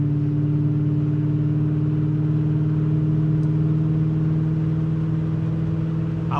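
A Ford Crown Victoria LX Sport with a newly fitted automatic shift controller pulls steadily in fourth gear, its engine a continuous close, loud hum with a faint whir and no talk.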